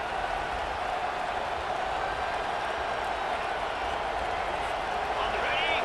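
Stadium crowd noise from the College Football 25 video game: a steady, loud roar of a large crowd filling the whole stretch, with commentary voices talking over it.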